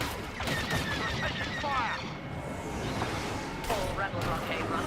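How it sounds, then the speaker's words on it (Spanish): Gunfire in the video game Star Wars Battlefront II: repeated shots and bursts crackle through a dense, busy battle soundscape, with sharper cracks standing out near the start and again toward the end. "Están disparando."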